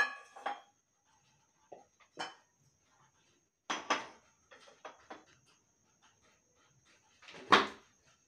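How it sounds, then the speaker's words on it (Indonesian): Ceramic plate struck during a school sound-reflection experiment, several sharp, faint clinks and clatters spaced out with quiet gaps between them. "piring yang bahan keramik juga suaranya lumayan terdengar"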